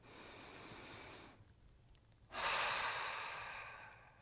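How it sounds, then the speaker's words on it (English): A slow, deep breath, first a long soft inhale, then a short pause, then a louder, breathy exhale that fades out. It is quiet and close to the microphone. "take a deep breath"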